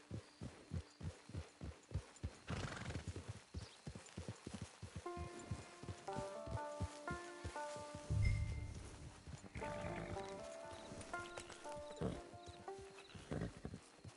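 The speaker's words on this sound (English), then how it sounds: "Get your horse." Hooves clip-clop steadily on the ground as a horse walks in Red Dead Redemption 2, soft and low under game music with occasional louder thumps.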